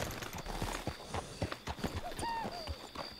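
Rapid rhythmic hoofbeats of a galloping horse in the video game Red Dead Redemption 2, close and steady, with a brief whinny partway through over a busy background.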